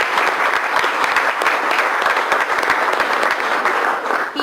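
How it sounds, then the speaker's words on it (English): A crowd at a neighborhood association gathering for a playground groundbreaking in a park gives a sustained round of applause, dense, steady clapping that lasts several seconds before tapering at the end. "you all just gave him a round of applause"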